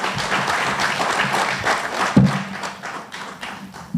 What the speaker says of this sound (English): And another round of applause for the moderator and the panel